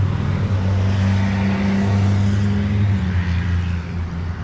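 A loud car passes on a town street along the Historic National Road in Indiana. A deep, steady engine rumble with strong low tones swells and fades across the whole stretch, heard alone and close by.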